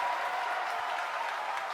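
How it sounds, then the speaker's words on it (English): A distant crowd cheers and applauds at a SpaceX rocket launch in a continuous, hissy wash, fairly faint and steady throughout. "You hear the crowd."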